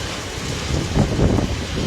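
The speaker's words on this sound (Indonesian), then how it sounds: "saat ini hujan cukup deras mengguyur Kota Pelihari, Kabupaten Tanah, Provinsi Kalimantan Selatan." Heavy rain and strong gusting wind in the town of Pelaihari, South Kalimantan, Indonesia, heard as a steady broadband roar that swells briefly in the middle, with no talk over it.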